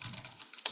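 Keys tapped on a computer keyboard, ending in one sharper keystroke for Enter, close and moderately quiet within a very short moment.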